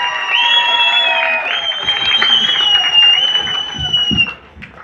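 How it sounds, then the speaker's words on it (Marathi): Audience applause and cheering for a music team at a Marathi film press conference, a steady burst of clapping with a tonal hum running over it, fading out near the end. "पूर्ण म्युझिक टीम साठी जोरदार टाळ्या आणि थँक्यू सो मच"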